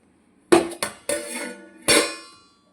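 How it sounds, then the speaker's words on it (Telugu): Metal plate lid lifted off a pan of chicken liver fry and the contents stirred, giving four sharp clinks and scrapes of metal on metal in quick succession, close and fairly loud with no talk. "ఇప్పుడు స్టవ్ ఆఫ్ చేసి ఒక 2 మినిట్స్ ఆగిన తర్వాతనే ఇప్పుడు నేను ప్లేట్ తీసి"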